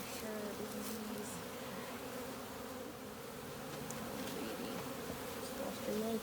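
Bees in a hive buzz thickly and continuously, a close, dense drone with overlapping individual wingbeats rising and falling throughout.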